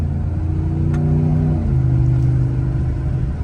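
A Dodge Ram truck engine revs up close with a deep, loud rumble that climbs in pitch, eases back and settles into a steady throaty drone.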